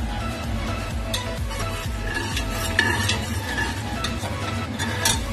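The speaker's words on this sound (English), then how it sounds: "we need to fry it for some time in the oil" Cinnamon, mace and nutmeg fry in onion-flavoured oil for mutton biryani, a continuous close sizzle with repeated scraping and clinking of a spoon stirring in the pot.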